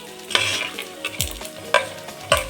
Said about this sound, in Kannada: ಕಡಲೆ ಬೀಜ ಹಾಕ್ಕೊಂಡಿದ್ದೀನಿ. ಫಸ್ಟು ನಾವು ಯಾವಾಗಲೂ ಕಡಲೆ ಬೀಜನ ಹಾಕ್ಕೋಬೇಕು. ಎಣ್ಣೆಯಲ್ಲಿ ಚೆನ್ನಾಗಿ ಫ್ರೈ ಮಾಡ್ಕೋಬೇಕು.